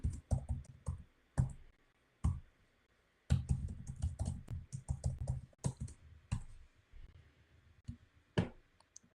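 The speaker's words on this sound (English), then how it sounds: "We're going to type in my password." Someone types a password on a computer keyboard, producing bursts of close, crisp key clicks in irregular rhythm with short pauses between runs and no talk.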